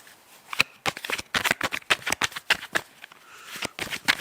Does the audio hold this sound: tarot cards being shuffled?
yes